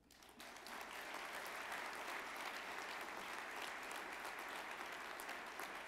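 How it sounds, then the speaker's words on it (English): An awards-show audience breaks into sustained applause for a family, the clapping swelling quickly and then holding as a broad, distant roar of hands in a large hall. "Let's continue to give the Amezcua family a big round of applause"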